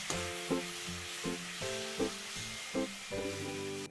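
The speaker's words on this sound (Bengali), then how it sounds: "আঁচ মাঝারি রেখে অনবরত নাড়াচাড়া করতে করতে আমি নারকেলের পুরটা শুকনো করে তৈরি করে নিলাম" Grated coconut filling stirred continuously in a pan over medium heat: a soft sizzle runs underneath a steady rhythm of scraping strokes, repeating about every three quarters of a second, with a faint tonal hum in the background.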